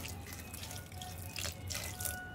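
Water trickles and splashes steadily into a pot of chopped banana stem and a spoonful of salt, headed for a pressure cooker to make soup; close and fairly quiet, with no talking.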